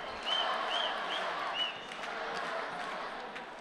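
Spectators at a judo Grand Prix in Almaty cheer for a Kazakh judoka with a distant, fairly faint wash of crowd noise, light clapping and a few high whistles.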